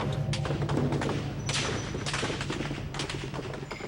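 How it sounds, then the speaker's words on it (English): Bursts of distant gunfire crackle and thud in irregular volleys over a steady low rumble, no voices. "And you just hear this thunderous sound of gunfire."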